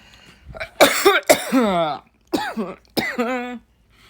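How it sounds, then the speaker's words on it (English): A person smoking weed lets out several harsh coughs in two bursts, close and fairly loud, with short raspy throat-clearing sounds between them and no talking. "Why are you coughing?"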